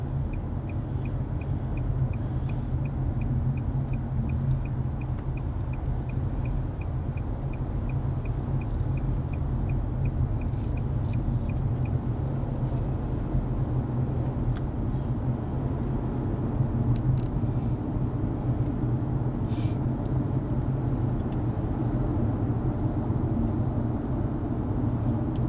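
Steady low traffic rumble is heard from inside a truck stuck in traffic on Atlanta's I-285. The engine and road drone stays continuous, with faint ticking on top and no talking.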